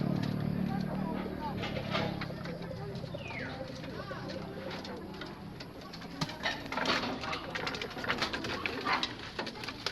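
Pigeons coo and scuffle in a loft, the soft cooing steady under occasional wing patter and sharper squabbling bursts, with someone talking nearby.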